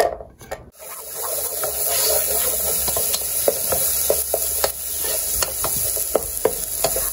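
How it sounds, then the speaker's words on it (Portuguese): Onion and garlic sauté in a pan, with a soft sizzle under repeated sharp scrapes and clicks of a utensil stirring, after a brief clatter at the start. "Primeiro aqui, ó, vou refogar a cebola e alho."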